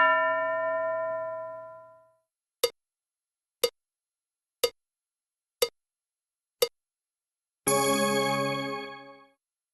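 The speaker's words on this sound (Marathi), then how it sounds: "घंटा वाजल्यावर एका मुलाला किंवा मुलीला गोष्टीचं नाव" A bell rings in a classroom reading lesson: a long resonant tone fading out, then five crisp evenly spaced dings about a second apart, followed by another sustained ringing chime that decays away, with no talking.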